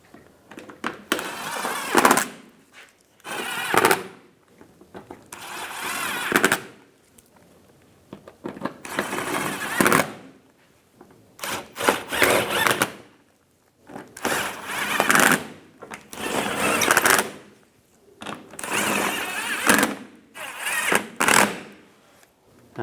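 Cordless power driver running screws into the front valance panel of a 2010-2014 Cadillac SRX, about eight loud, close whirring bursts of a second or two each, separated by short quiet pauses.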